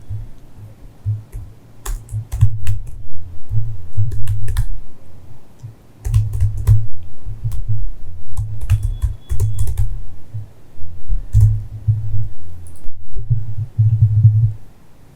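Code is typed on a computer keyboard in close, rapid bursts of key clicks and thuds, with short pauses between runs, fairly loud and without any talk.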